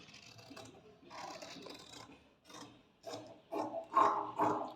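Scissors cutting through blouse fabric marked for a cross-cut blouse, a series of close, dry rasping snips and rustles in short bursts that grow louder toward the end, with no talking.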